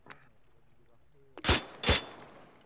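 Two sharp, loud gunshot detonations in the military shooter Arma 3, spaced less than half a second apart, following a faint click and quiet background tones.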